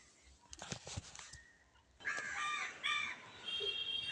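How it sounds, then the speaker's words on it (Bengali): Crows caw repeatedly from a rooftop in the morning, fairly close and clear over quiet outdoor background noise, with some brief clatter before the calls. "পাখির ডাক ছাড়া কোনো কিছুই শোনা যাচ্ছে না"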